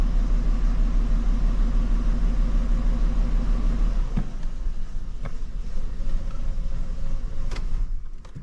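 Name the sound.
Nissan Skyline engine running rough on a missing cylinder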